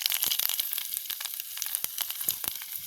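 Fenugreek, fennel, cumin and dried chillies crackle and sizzle in hot oil, a close, steady spitting hiss broken by rapid sharp pops.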